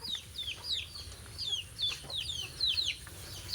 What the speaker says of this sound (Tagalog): Makikita nyo yan guys, yung mga manok na yan guys.